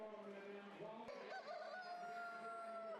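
Chickens at a rare and exotic pet auction for non-utility animals, with a faint rooster crow rising over distant clucks and barn murmur amid a busy, noisy background.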